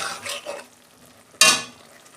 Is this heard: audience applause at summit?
no